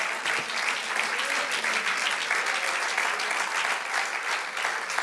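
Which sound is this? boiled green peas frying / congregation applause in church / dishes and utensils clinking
congregation applause in church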